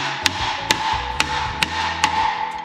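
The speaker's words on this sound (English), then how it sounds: "I can just hammer this down, but with a softer hammer" Five evenly spaced blows of a soft hammer on sheet metal over a shrinking stump, each a crisp ringing tap, heard close over a low background hum.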